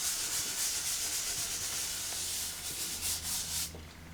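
Pastel colours are blended by hand into tough 45% cotton paper, a soft continuous rubbing and sanding hiss that stays steady and close, then eases off near the end.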